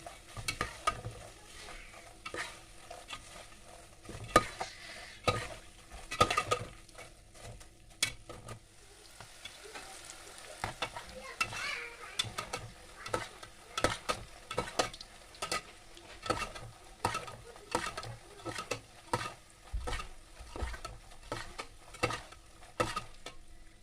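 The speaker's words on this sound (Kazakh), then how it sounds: "Осылай қызарғанша қуырып аламыз." Chak-chak dough frying in a pan until golden, with a soft continuous sizzle under frequent clicking stirs and scrapes, close and fairly quiet, no talk.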